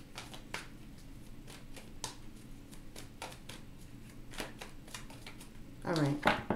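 Repeated crisp riffling and snapping of tarot cards, a steady series of short bursts close up, ending in a brief voice at the end.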